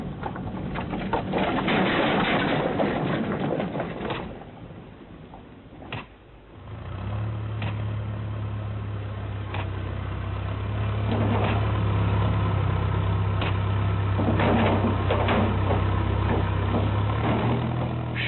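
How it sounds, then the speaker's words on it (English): Heavy engines of shovels and dumper trucks hauling volcanic rock from a cliff face to a harbour site on Tristan da Cunha rumble and idle at moderate distance, with clanks and a steady low drone, birds faintly audible. "Shovels and dumper trucks from England carry the rock from the cliff face to the harbour site."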